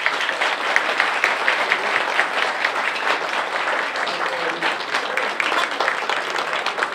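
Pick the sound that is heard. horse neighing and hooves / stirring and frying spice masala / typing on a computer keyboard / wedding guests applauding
wedding guests applauding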